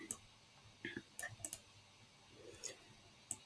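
A computer mouse clicking a handful of times, light and sharp, spread irregularly across a quiet stretch with faint talk nearby.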